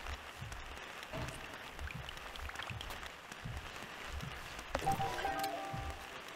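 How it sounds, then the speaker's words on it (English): Steady rain hisses softly and continuously in the video game Sable, a faint, even patter with a brief chime-like tone near the end. "It sounds like it's raining."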